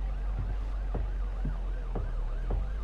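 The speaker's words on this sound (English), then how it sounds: "Them sirens, though, mother of Jesus" Emergency vehicle siren from the OMSI 2 bus simulator on London route 322, a repeating rising and falling wail cycling about every half second over a steady low engine hum, loud and continuous with no talk.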